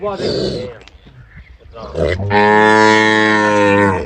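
A cow moos loudly and close by, one long low drawn-out call following shorter grunting sounds and a bit of background voice.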